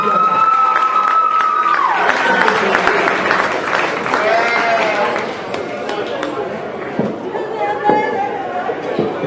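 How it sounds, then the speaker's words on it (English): Audience applause fills a lamb show arena, a steady wash of clapping with scattered cheers and crowd chatter, fading slightly as it continues, with a voice faintly over it. "Let's give him another round of applause for that."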